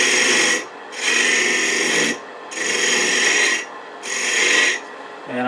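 A gouge cuts a wooden finial turning on a lathe, giving four loud, rasping scraping passes in a steady rhythm with brief quieter gaps between them, close up.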